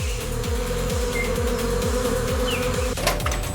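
Bees swarm and buzz steadily around a giant wild jungle beehive, a dense continuous drone close by, with a brief faint tap near the end.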